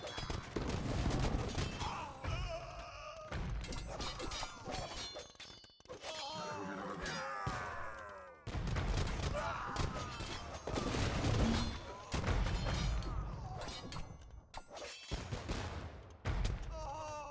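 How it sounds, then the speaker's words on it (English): Bombard cannons fire during a battle in a real-time strategy game, with dense clangs, booms and impact crashes piling up continuously amid chaotic battle noise. "So cannon exchanging some shots."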